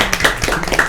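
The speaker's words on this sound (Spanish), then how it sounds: "Un aplauso por ello." Brief burst of hand clapping from a small audience at a Christian youth talk show recording, several quick overlapping claps, close and fairly loud.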